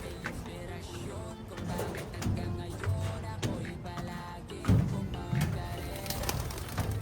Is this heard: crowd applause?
no